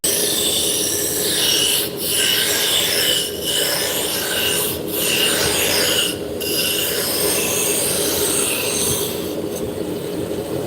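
Wood on a lathe being cut with a roughing gouge while a taper is shaped, a steady close rasping scrape that runs without a break, with short regular dips in intensity as the tool passes along the spindle.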